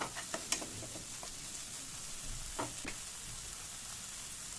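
Tomato and onion sautéing in a pan on slow heat, a quiet continuous sizzle with a few light spoon taps and scrapes early on, no talk.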